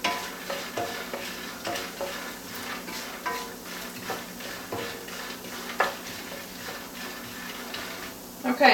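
Oil sizzles in a frying pan as a utensil stirs and scrapes, sending regular clicks and taps through a steady hiss, close by, with light speech in the background.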